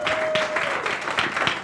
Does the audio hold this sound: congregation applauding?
yes